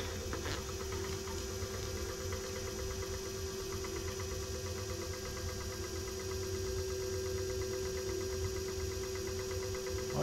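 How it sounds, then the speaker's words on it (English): YUME Y10 electric scooter's hub motor spinning the raised back wheel at low setting, a steady faint electric whine with a fixed tone and light mechanical buzz, unbroken for the whole stretch. "Now I got it down on 1, so. I'm gonna let that run for a little bit. Let the back wheel roll"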